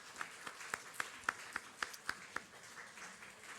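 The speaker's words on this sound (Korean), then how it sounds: "우리 다 같이 일어나시면 박수 한번 하도록 하겠습니다" Church congregation standing during a Wednesday worship service and clapping together, producing a faint, evenly paced series of sharp claps that fades out toward the end.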